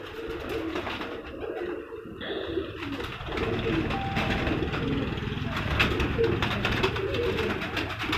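Breeder pigeon of the poisonous (zehrila) breed cooing in a steady, low murmur, with other birds and faint background noise and talk around it.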